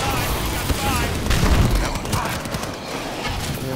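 A nano bomb going off in Call of Duty Advanced Warfare Exo Zombies, a heavy boom swelling amid crackling bursts of battle noise, loud and close, with a voice talking underneath.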